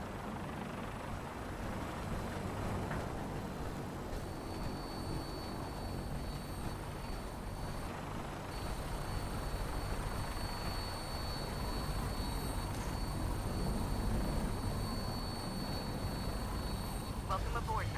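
Gunship aircraft engine in Fallout 4, a steady low droning rumble with a thin high whine, held evenly throughout at moderate level.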